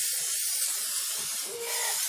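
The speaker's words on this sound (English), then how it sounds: "use your carburetor cleaner to spray the stuff off" An aerosol can of carburetor cleaner sprays in one continuous close, loud hiss for about two seconds while cleaning a 1969 GMC carburetor, cutting off abruptly at the end.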